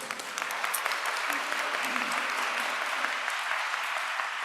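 Audience applause at a school district board of education State of the District address, a steady wash of many hands clapping together at moderate volume, filling the room evenly without a break.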